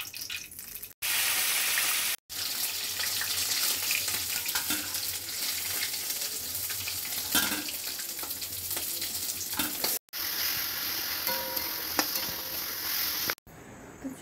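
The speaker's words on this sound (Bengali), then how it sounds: "মাছটা ভাজা বসাবো।" Fish fries in hot oil in a home kitchen pan, giving a steady, close, loud sizzle and crackle that runs on with a few abrupt breaks and no talking.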